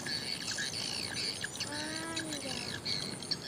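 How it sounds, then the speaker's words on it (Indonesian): Swiftlets chirping near a swamp fishing spot, with thin high twittering calls repeating through steady background noise and one clearer descending call in the middle. "Ini berisik karena ada suara burung ini."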